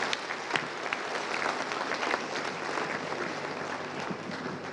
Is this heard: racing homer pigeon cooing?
no